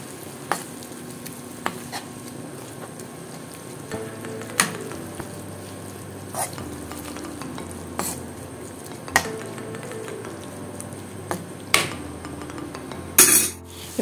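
A spoon stirs masala with mint and curry leaves in a sizzling pan, with a steady fry hiss beneath scattered scrapes and clinks against the metal, close and continuous.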